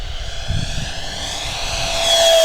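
Durafly D.H.100 Vampire V2 model jet with a 70mm electric ducted fan makes a full power pass, a steady high-pitched whine and rushing roar that swells louder as it approaches.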